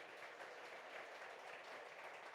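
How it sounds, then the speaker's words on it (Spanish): Faint church congregation applause, a steady wash of clapping hands held at low level throughout, with no voices over it. "Démosle un aplauso bien fuerte al Señor."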